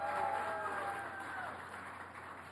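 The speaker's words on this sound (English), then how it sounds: "I'd like to ask for a round of applause for all the people who worked on that project." A crowd gives a sustained round of applause for a team behind a new premium high-speed passenger train. The dense clapping is steady and moderately loud, with faint voices mixed in.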